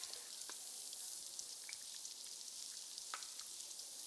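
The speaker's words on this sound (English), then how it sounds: "we're waiting for our onions to saute" Onions sautéing in a pan on a home kitchen stove, a soft, steady sizzle and frying hiss that holds evenly throughout, with a few faint pops and crackles rising out of it.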